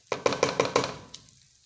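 Rice stirred into a pot with potatoes for chicken pilau, giving about five evenly spaced scraping knocks of a spoon against the pot, close and fairly loud, then a softer stroke as the stirring fades out.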